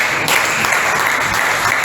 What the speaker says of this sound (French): Et si tu peux dire merci au Seigneur par nos acclamations.